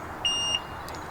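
A single short electronic beep from a fishing bite alarm at a lake, sharp and high-pitched, lasting about a third of a second over quiet background hiss.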